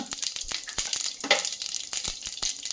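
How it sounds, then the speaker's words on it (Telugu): Mustard seeds and cumin sizzling in hot oil in a heated pan, a dense, close crackle with rapid popping bursts throughout. "నూనె కాగంగానే దాంట్లోకి ఫస్ట్ కొంచెం ఆవాలు, కొంచెం జీలకర్ర"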